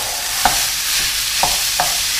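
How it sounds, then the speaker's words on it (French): Ground beef frying in a pan with smoked bacon fat, a loud, dense, steady sizzle with a few brief utensil knocks scattered through, close and without speech. "Maintenant, dans la même poêle, je vais verser ma viande hachée."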